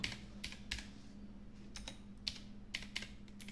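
Fingers tap on a computer keyboard in quick irregular bursts of light clicks, close and fairly quiet over a low background hum.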